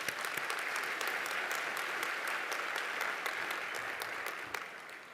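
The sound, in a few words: audience applause at a university graduation ceremony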